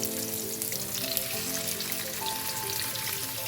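Fresh milkfish (bangus) laid into a hot pan, a steady crackling sizzle with faint oil pops, close and continuous with no talking.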